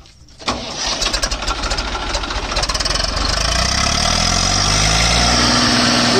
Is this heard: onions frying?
no